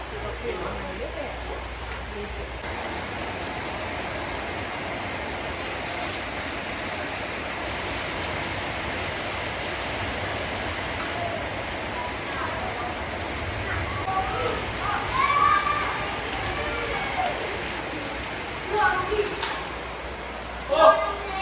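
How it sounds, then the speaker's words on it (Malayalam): Heavy rain falling outdoors on a garden under landscaping work, a dense, steady hiss of downpour running throughout with a few louder splashes or knocks near the end. "പക്ഷെ എന്താ ചെയ്യുക, നല്ല മഴയാണ്."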